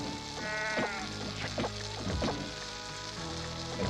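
Sheep bleating in the video game The Dark Eye, a few wavering bleats over a steady bed of game music and ambient noise, no speech.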